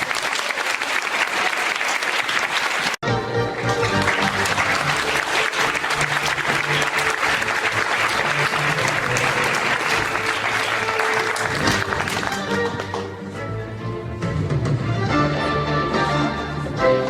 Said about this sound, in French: Vous pouvez l'applaudir encore.